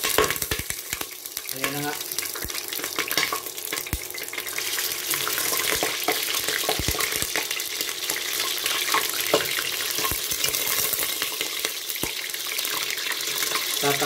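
Pork pieces hit hot oil one by one, setting off a loud, continuous sizzle with sputtering pops close by; a brief spoken remark comes near the start.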